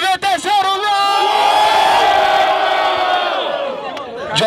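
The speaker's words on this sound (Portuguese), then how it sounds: "Agora faz barulho quem preferiu a rima e freestyle do MC Johnny" A crowd at a street rap battle in São Gonçalo, Brazil roars and cheers loudly and continuously. Sustained yelling and whooping voices fill the whole stretch, with a brief dip near the start.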